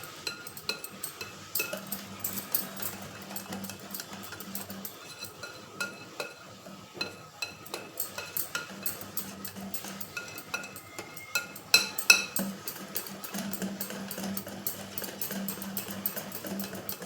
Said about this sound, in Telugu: ఈ బియ్య పిండి బాగా కలిసేట్టు కలుపుకోవాలి